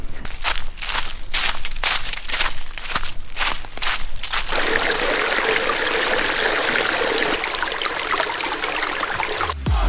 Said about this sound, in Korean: 물 쫄쫄쫄 흐르는 소리 있죠. 물 흐르는 소리 같아요.